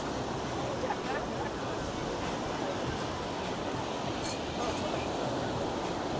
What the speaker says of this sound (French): c'est vrai que c'est quand même très venteux